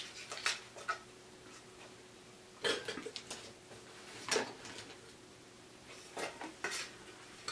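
A camping cookware kit being handled: pans, lid, sporks and a spatula with an attachable handle clink and rattle in several short clusters of metallic knocks, near and fairly quiet, with gaps of near silence between.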